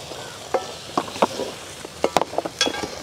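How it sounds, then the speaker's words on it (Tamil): Crab masala gravy spiced with chilli, coriander and garam masala boiling in a village kitchen pan: soft, irregular bubbling pops and light sizzle close by, with no talking over it. "மசாலா நல்லா கொதின்னு கொதிச்சுட்ருக்கேன்"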